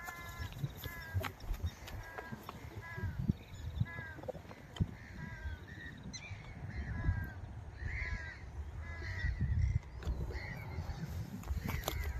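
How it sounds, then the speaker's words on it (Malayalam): Several crows caw repeatedly at moderate distance over a steady outdoor rumble at a seaside beach in Weymouth, Dorset, England, with occasional faint bleating mixed in. "ഒരുപാട് കാക്കയൊക്കെ ഉണ്ട് കേട്ടോ"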